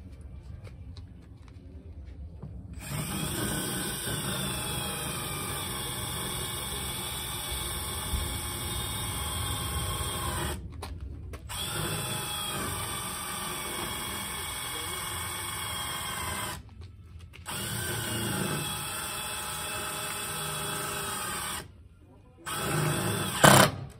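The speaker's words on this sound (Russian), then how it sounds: "Сейчас попробую закрутить саморез." Power drill driving a self-tapping decking screw, a loud sustained whine with high harmonics running in long stretches, broken by short pauses.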